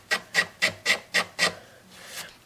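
A blade scraper drawn repeatedly over the wooden top of a Martin guitar to level a repaired crack: six crisp, evenly spaced rasping strokes up close, then a softer, longer final pass.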